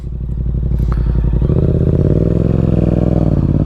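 A 2024 Yamaha MT-07 motorcycle engine revs up hard nearby, rising into a loud, steady, throbbing roar that stays at high revs.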